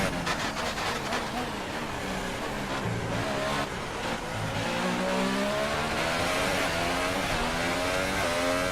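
A Williams Formula 1 car's engine in F1 2018 at the Italian Grand Prix, screaming upward through the gears with rising whine and quick upshifts, loud and sustained, with a voice talking faintly over it.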